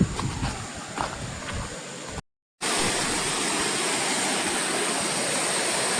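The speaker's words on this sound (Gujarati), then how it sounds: "વોટરફોલ જોતા જશું." A small waterfall and stream in the Dang mountains, a steady broadband rush of falling water, close and constant, with a brief dropout before the flow resumes louder and fuller.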